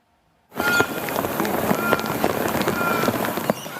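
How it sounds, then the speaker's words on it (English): Heavy rain during flooding in Sydney, New South Wales, bursts in after a moment of silence and then pours down as a loud, dense, steady hiss with scattered splattering impacts. "relentless rain lashes the country's southeastern coast"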